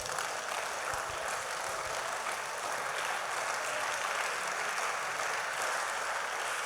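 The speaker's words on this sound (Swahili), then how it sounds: "Mchapie Yesu makofi." A church congregation claps together in praise, a dense and steady roar of applause that fills the whole stretch at even loudness, with no speaking over it.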